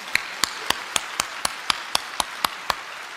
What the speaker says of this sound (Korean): 다시 박수합시다